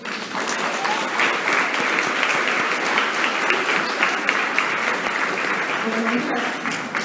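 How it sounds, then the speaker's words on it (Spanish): A conference audience gives a steady, full round of applause for the speaker at a talk on intellectual developmental disorder. The dense clapping runs evenly from start to finish with no break. "Recibámosla con un fuerte aplauso"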